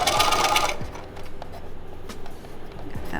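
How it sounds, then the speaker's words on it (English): A sewing machine backstitches a baby blanket with a brief, close, buzzing whir that stops after under a second, followed by quiet handling noises. "Give it a quick back stitch because we don't want that to tear out when we flip the blanket."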